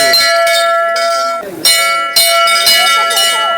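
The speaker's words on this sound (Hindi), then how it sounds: "तो यहाँ ट्रैक ख़त्म होता है, तो एक बार घंटी बजा देते हैं।" A large metal temple bell at Tungnath Temple in Uttarakhand rings several times, each loud clang leaving a long shimmering ring, struck close by at an uneven pace.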